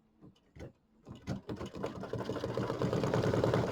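A sewing machine stitches tack-down lines on a glittered mini quilt, starting with a few short stuttering bursts and then running in a steady, close mechanical whir.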